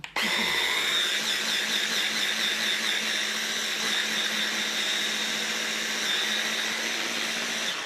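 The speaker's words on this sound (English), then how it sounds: "So you want to blend it till it's really smooth." A high-powered blender running on turbo, grinding cashews into a smooth paste, roars as a steady, loud, continuous whine from start to finish with no talking.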